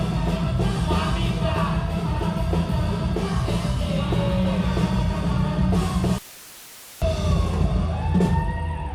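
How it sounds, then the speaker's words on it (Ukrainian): Live wedding concert by a Ukrainian pop performer, loud crowded mix of amplified music and guests shouting and cheering, with a brief drop to near silence before the noisy celebration resumes. "як ви чуєте, це не фонограма, це звук конкретного живого концерту із привітаннями і криками гірко"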